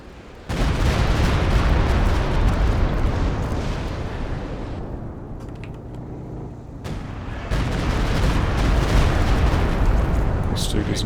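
Stuka dive bomber strikes in Company of Heroes 2 set off heavy booming explosions, a sudden loud blast followed by rumbling detonations and a second surge, with a commentator talking over the battle.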